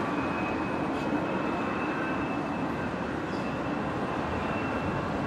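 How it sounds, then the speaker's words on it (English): A Life Flight Challenger jet at Brisbane Airport gives off a steady, broad engine roar at moderate distance, with a thin high whine running through it and no talk. "here we go. The Life Flight Challenger"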